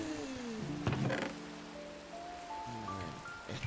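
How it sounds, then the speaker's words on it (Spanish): Rain begins falling in a modded Minecraft server world, a steady soft hiss running beneath bright tonal game chimes and a few thumps. "pone a llover"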